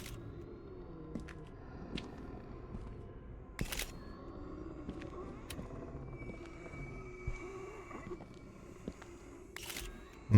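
A camera shutter clicks twice in the horror video game Visage, sharp bursts standing out over a low, rumbling ambient drone.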